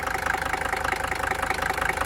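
A 1979 Mercedes 300D W123 diesel engine idles close by, giving a steady, rhythmic clatter with a low, even chug and no voices over it.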